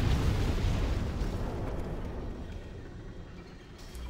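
A glowing orb cart trap explodes in the video game Demon's Souls with a loud rumbling blast that decays into a fading roar over a few seconds.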